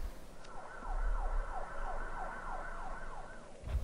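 Emergency-vehicle sirens wailing in a steady, repeating up-and-down sweep at moderate distance over a low street rumble, with no talk.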